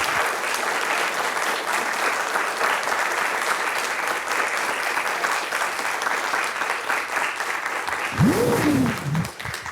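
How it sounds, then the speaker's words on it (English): A lecture audience applauds at a pre-concert talk on Japanese music and dance, a full, sustained round of clapping from many people, with a brief voice rising near the end. "Please join me in a big round of applause again."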